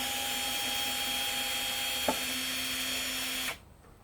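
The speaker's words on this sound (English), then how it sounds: "Little 1/4-inch bit. Takes the screws out." A drill fitted with a 1/4-inch bit whines steadily up close while backing screws out of a cast aluminum vacuum motor, with one brief clack partway through, then winds down and stops near the end.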